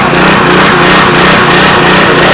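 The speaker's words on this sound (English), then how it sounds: "here's one of the pumps pumping away." Petrol-driven pump running loud and close while draining water from a sunken boat, a dense continuous engine roar with a faint rhythmic pulse throughout.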